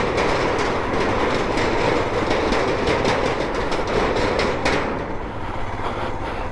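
A motorcycle rattles steadily over a small iron bridge, a loud continuous clattering rumble with rapid rhythmic clanks like a train on tracks.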